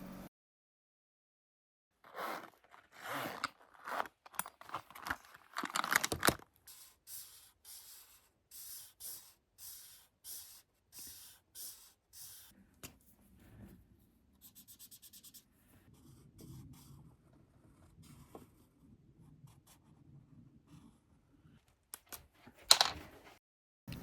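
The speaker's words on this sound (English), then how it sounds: "Now for some ASMR drawing time." Drawing on paper for a sketch of Big Falls in western Maine: close, dry scratchy strokes in bursts, then a softer, steadier rubbing texture with short pauses, ending in one brief louder scrape. No talking.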